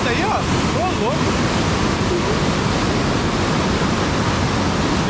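Steady, full-bodied roar of a waterfall in Bahia, Brazil, close by, constant throughout with no breaks, while a few faint tonal calls drift over it early on.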